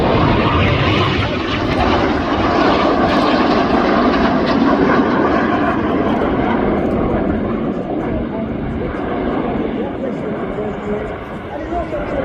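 Loud, continuous roar of Red Arrows jet aircraft during a RIAT air display, as Number 5 rolls through smoke, a broad steady rush that dips slightly near the end, with a commentator speaking over it.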